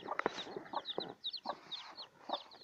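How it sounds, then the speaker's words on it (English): Newly hatched chicks in a natural egg hatching: a close, busy chorus of high, rapid peeps and cheeps with soft clucks mixed in, steady for a few seconds. No one talks. "I think there are 8 chicks."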